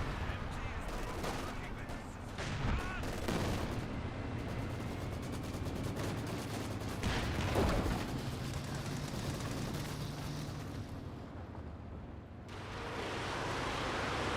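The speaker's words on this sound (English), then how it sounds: "Close range artillery Panzerwerfer barrage running on in here." Dense, rumbling Panzerwerfer artillery barrage in Company of Heroes 2, a sustained wash of overlapping explosions and gunfire with a heavy burst near the middle, continuing loudly throughout.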